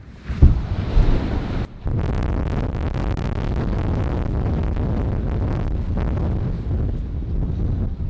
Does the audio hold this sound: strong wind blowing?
yes